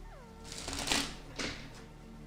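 Radiant tarot playing cards from a tin being shuffled, a couple of brief papery riffles with a soft whooshing burst, close and clear over low background hum.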